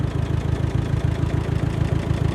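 A 1955 Ferguson 35 tractor with a dual-stage clutch runs in first gear, its engine chugging loud and close in a steady, rapid low thumping rhythm that holds throughout.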